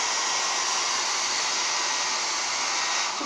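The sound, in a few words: hair dryer blowing while setting hair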